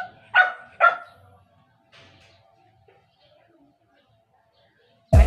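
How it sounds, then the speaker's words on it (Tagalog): A pet dog on a small farm in Aklan gives two sharp, close barks, then a soft whimper, and one more loud bark comes after a quiet gap. "May alaga pang aso."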